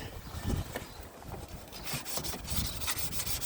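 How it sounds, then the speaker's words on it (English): Thermostat housing from a 2008 Land Rover being rubbed on sandpaper laid on a flat bed, giving close, soft scraping strokes in an uneven back-and-forth rhythm, with no talk. "to make it balance, apply sandpaper on the bed"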